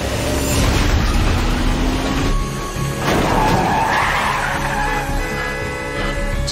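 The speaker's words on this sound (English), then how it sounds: "My mom just hit another car!" A car skids on a road and crashes into another car. A loud, sustained roar of tires and engine runs under a tonal squeal and swells again midway, with no voices.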